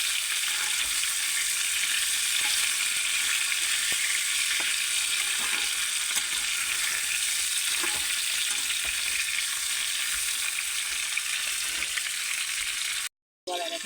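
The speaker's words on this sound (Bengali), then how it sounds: "এরকম আর একবার ভেজে নেবো ভালো করে, লাল লাল হয়ে যাবে পুরোপুরি।" Tengra fish fry in a pan with a loud, constant crackling sizzle and scattered pops, heard up close and without speech, and the sound cuts out briefly near the end.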